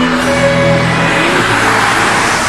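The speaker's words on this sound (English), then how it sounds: "It's a 6-litre W12. It's an amazing engine." A Volkswagen Phaeton's 6-litre W12 engine roars loudly and close, its tone sliding downward before settling into a broad, steady rush, with no voices over it.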